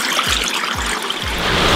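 Water trickling from a hidden biofall into a garden pond, a constant close splashing wash with a few soft low thumps, no voices.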